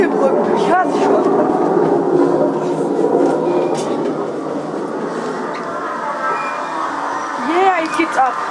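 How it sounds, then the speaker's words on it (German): The roller coaster of the Devils Mine ride rumbles past at a steady distance, a continuous rolling roar with some rattling and clicks, under excited talking from people nearby. "Hier fährt die Achterbahn her."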